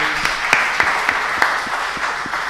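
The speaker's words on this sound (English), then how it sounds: "Let's give a warm applause to Arianna, please." An audience at a standards research presentation event claps for a presenter, a dense, close ring of applause with sharper individual claps popping out throughout the short burst.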